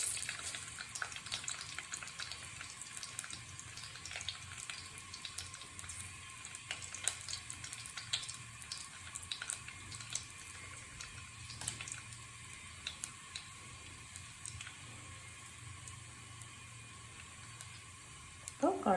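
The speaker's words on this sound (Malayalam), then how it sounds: "അപ്പോൾ കടുക് പൊട്ടി വന്നിട്ടുണ്ട്" Mustard seeds spluttering in hot oil in a pan, a faint continuous crackle with scattered tiny pops throughout, fairly quiet and steady.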